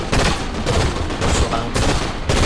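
Dense, continuous gunfire from the game Fortnite (chapter 7, season 3): rapid overlapping shots form a loud, unbroken barrage with brief dips, and no talk over it.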